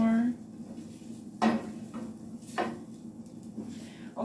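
Egg fried rice is stirred in a pan, a spatula scraping and knocking against the metal in a few distinct clatters spaced over a soft background, with no talking.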